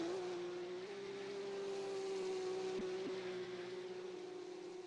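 A silver Porsche Cup race car's engine drones steadily during a Swedish Grand Prix race, a continuous tonal whine holding near-constant pitch at moderate distance, with brief dips and no talk.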